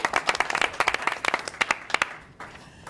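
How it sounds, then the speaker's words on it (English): Brief burst of audience applause at a city strategic assessment presentation, a room of people clapping briskly for a couple of seconds before it thins out and fades. "Deserves an applause."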